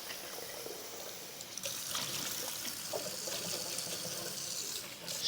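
Rice being rinsed under a running tap, a steady close stream of water splashing and trickling into a sink with grains swirling, continuous throughout with no talking.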